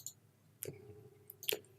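Two sharp computer mouse clicks while working in Revit software, spaced almost a second apart over a quiet background with a faint steady tone.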